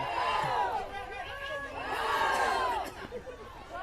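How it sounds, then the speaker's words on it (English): A softball crowd at a championship game cheers and shouts in two swelling bursts, energetic and fairly loud, with scattered voices calling out across the noise. "You can hear the crowd behind me."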